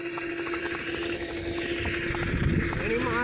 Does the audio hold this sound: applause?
no